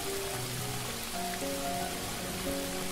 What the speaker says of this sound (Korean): 빗방울은 점점 거세지고